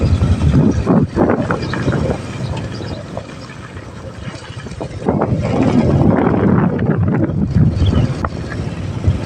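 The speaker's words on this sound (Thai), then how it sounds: "ลมโคตรแห้ง" Strong, dry wind blows across a rural village in Laos during the harvest season, a loud rushing roar with heavy buffeting on the microphone, gusting and easing over several seconds, with no talk.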